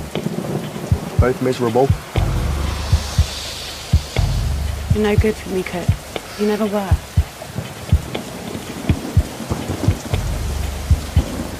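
Steady rain falling outdoors during a thunderstorm where two people stand talking, with low rumbles of thunder under their voices and a continuous hiss of rain throughout.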